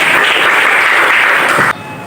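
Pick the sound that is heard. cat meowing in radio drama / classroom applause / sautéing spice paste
classroom applause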